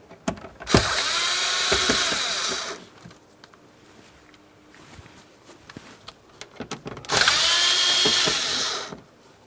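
Power tool driving out two Phillips head screws from an interior panel of a 2008-2016 Chrysler, two loud close whirring bursts of a few seconds each separated by a quiet pause.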